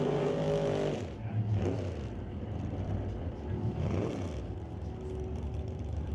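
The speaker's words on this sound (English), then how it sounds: "Hoffman behind the wheel of his Camaro." Drag race cars, including a Camaro in the left lane, roaring down the strip at a Super Street drag race, with a loud engine drone that swells and fades as they pass.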